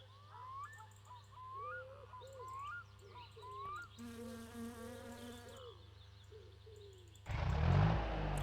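Insects buzzing in the video game My Summer Car, a steady whining drone under chirping bird-like calls, then a loud broadband rush near the end.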